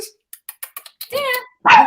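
Short sharp yips and a louder bark or whine from a dog sound close by, in a quick irregular burst, with voices mixed among them.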